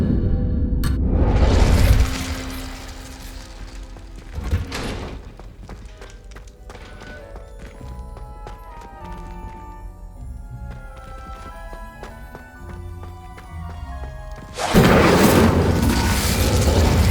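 Incendio fire spell cast in Hogwarts Legacy, a loud roaring whoosh and boom at the start, a thud midway, tonal game ambience, then another loud burst of fire at the end.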